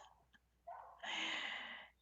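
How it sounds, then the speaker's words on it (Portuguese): A dog barks out in a backyard, one short muffled bark followed by a longer, louder bark-like burst, heard faintly at a distance with no talk over it. "Eu acho que vocês estão ouvindo o cachorro lá no quintal,"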